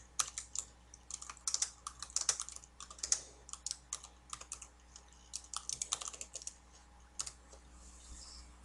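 Text being typed on a computer keyboard, a quick irregular run of light clicking keystrokes in bursts with brief pauses, close and soft over a faint steady hum, no talking.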